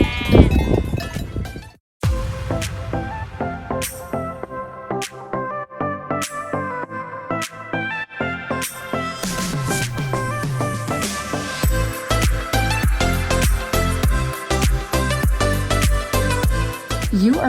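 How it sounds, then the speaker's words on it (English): Black-nosed sheep in Zermatt bleat loudly and close up in repeated calls, with a separate sharp bleat near the start. Mixed in is a bright tonal layer resembling backing music that grows denser in the second half. "Meet the black-nosed sheep."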